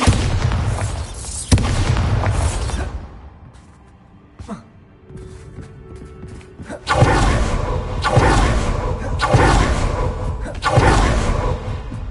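Bombarda spell explosion effects boom out loudly and repeatedly, each heavy blast followed by a rumbling whoosh, with a quieter gap midway before several more booms in quick succession.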